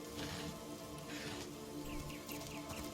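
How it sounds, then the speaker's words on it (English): Steady rain falls in the video game Divinity Original Sin, a dense, even hiss of drops with a few faint chirps scattered through it. "I don't mind the rain though."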